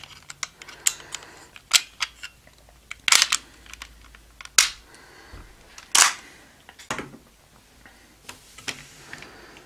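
Jyudenryu Ankydon toy from the Kyoryuger line sounds its brave finish effect as a string of sharp plastic clicks and electronic bursts, irregular and close, with no talk over it.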